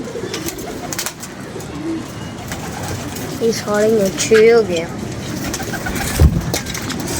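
Pigeons cooing in a loft, soft repeated coos rising in the middle of the clip amid background clatter, with people talking over them.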